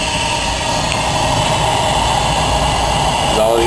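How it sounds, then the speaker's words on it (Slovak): A 22 kW oil-fired boiler with its burner running gives off a steady, even roar with a constant hum underneath, unbroken from start to finish and fairly loud. "Kotol je takto vo funkčnom stave a horí."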